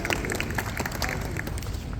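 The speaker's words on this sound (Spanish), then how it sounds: "Los aplausos recibidos del público" An audience applauds an award recipient at a friendship day ceremony, with dense, steady clapping from a crowd filling the short moment.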